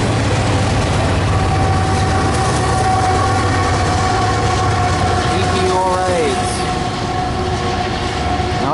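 Freight train rolling past with a Kansas City Southern AC4400 locomotive working as a distributed power unit, loud continuous diesel rumble and wheel noise with a brief squeal, close by throughout.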